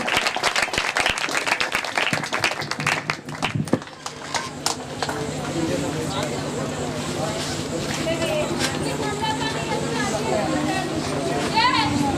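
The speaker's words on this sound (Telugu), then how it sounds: "దైవ సేవకులు వస్తుండగా అందరం బిగ్గరగా చప్పట్లు కొడదాం." A church congregation at an anniversary service claps loudly and continuously in a dense, rhythmic burst, with a voice talking over the applause.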